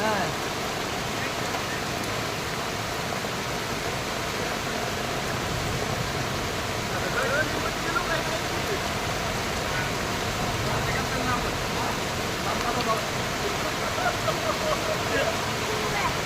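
Heavy, cloudburst-like rain pours over Murud town in Latur as a constant, loud, even roar of water that never lets up, with no clear voices above it.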